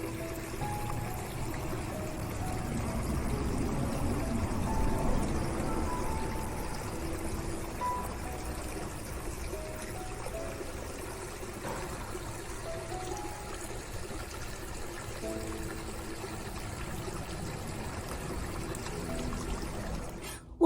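Garden water fountain trickling steadily among stone water features, a continuous soft splashing and pouring wash that stays even and close throughout with no talk.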